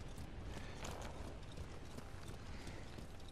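Horse hooves clip-clop steadily through a dense wash of ambient game noise while riding in the video game Ghost of Tsushima, with no voices present.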